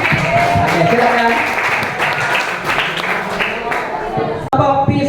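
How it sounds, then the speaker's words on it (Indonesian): A group in a classroom or workshop session gives hearty applause, many hands clapping loudly and close with voices mixed in, breaking off abruptly near the end before a short resumption. "Yang lain tolong beri aplaus dulu, tepuk tangan semuanya."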